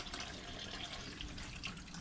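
Hot water runs steadily from a tap inside a 2019 Elddis 840 Avante caravan, a constant, fairly quiet hiss of flowing water with no break and no talk.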